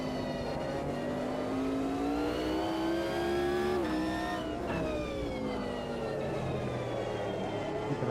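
The engine of a McLaren race car in the Automobilista 2 racing game revs loudly and steadily, its pitch climbing and dropping through gear changes, with other engine drone underneath.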